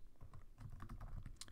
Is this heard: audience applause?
no